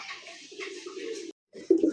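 Pigeons, including fancy racer and show breeds, cooing close by in a loft, with low throaty calls running steadily, a brief pause, then louder coos returning.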